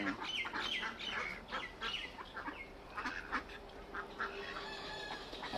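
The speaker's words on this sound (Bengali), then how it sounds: "হাঁসগুলোর একটু খাওয়াইলাম, পানি খাইবো মনে হয়" Ducks being fed in the morning quack repeatedly at close range, a busy flock of overlapping calls with scattered clucking mixed in.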